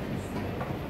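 Steady rumble of a metro train riding along its rails on a ride to the bus station, with a continuous low roar and faint rolling clatter close by and no talk.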